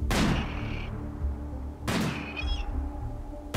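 Gunfire in RimWorld, two sharp ranged shots about two seconds apart, each bursting loudly then trailing off, with no talk over them.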